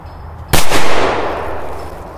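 A firecracker blasts inside a toy tractor: a single sharp, very loud bang, then a long fading rumble and rattle that trails off over about two seconds.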